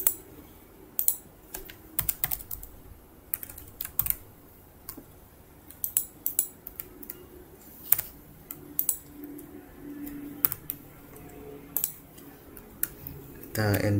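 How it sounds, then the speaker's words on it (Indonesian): Computer keyboard typing in irregular bursts of quick key clicks, with occasional harder single strikes like an enter key, fairly close and fairly quiet, with low background hum and faint speech. "Kita enter dulu ya."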